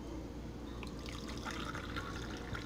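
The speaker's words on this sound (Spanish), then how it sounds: "Yo voy a proceder a verter." Liquid lemon gelatin poured into small cups, a faint steady trickle and splash over a low background hum, quiet and fairly close.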